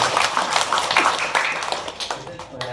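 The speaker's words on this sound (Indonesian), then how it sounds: "Oke, tepuk tangan dong" An audience at an Islamic-style gathering breaking into quick, dense hand clapping, a burst of close applause that thins toward the end, with voices mixed in.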